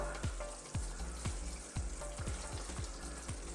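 Fresh coriander is stirred into a sizzling goat curry, a steady close frying crackle with a series of regular spoon taps and scrapes against the pan.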